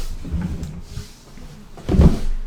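A drawer slides open and shut during a search, with a soft scrape early on and a louder wooden knock and rumble near the end.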